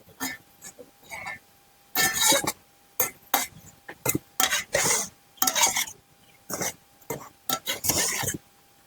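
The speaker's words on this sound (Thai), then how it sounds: "แล้วก็ใส่มะกอก ก็คน" A spoon stirs a snail salad with olives in a bowl, giving a series of short, clattering scrapes and clinks in irregular bursts, close and fairly quiet, with brief pauses between strokes.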